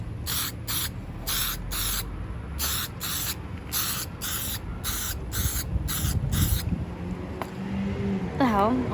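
Spray can applying clear coat outdoors on a windy day, heard as a series of short hissing bursts in a fairly steady rhythm, with wind noise underneath and a brief squeaky sound at the end.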